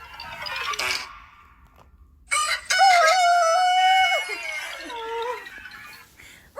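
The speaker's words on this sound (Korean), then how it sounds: "닭 울음소리가. 일어나실걸?" A rooster-crow alarm sound goes off loudly: a short burst, a pause, then a long drawn-out cock-a-doodle-doo and trailing clucks, standing out against a quiet background.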